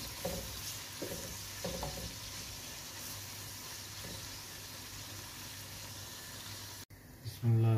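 Onions browning in a pan with cumin seeds and green cardamom give a steady, moderate sizzle with occasional stirring scrapes, and a louder clatter near the end.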